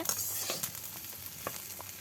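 Potatoes frying in a pan while being stirred, giving a close, continuous sizzle with repeated scraping strokes.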